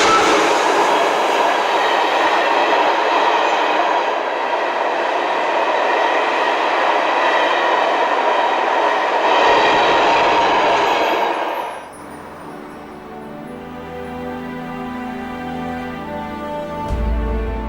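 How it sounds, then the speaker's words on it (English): DM3 locomotive hauling empty ore wagons on the Malmbanan line near Abisko, a loud rumbling pass with rhythmic wheel clatter that fades after several seconds into a quieter, distant roll. "a DM3 passes with empties from"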